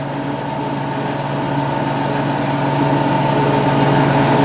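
A running Audi Q5 engine with a misfire, a steady low droning hum that grows slightly louder over a few seconds, with no speech.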